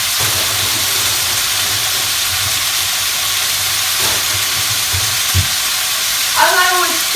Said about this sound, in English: So then it says stir in the onion.